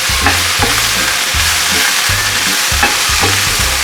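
Vegetables sizzle steadily in a hot pan while a utensil stirs them, giving repeated scraping strokes in a loose rhythm over a constant loud frying hiss, close up with no voices.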